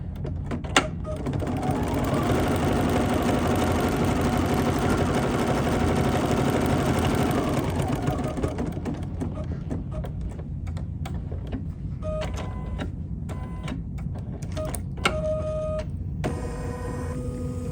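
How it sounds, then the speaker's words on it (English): A sewing machine stitches steadily for the first eight seconds with a continuous mechanical hum, then quiets into softer intermittent clicks and short tones. "I'm just going to go ahead and start stitching"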